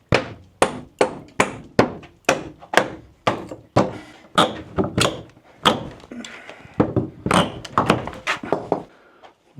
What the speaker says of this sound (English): There's my hammer.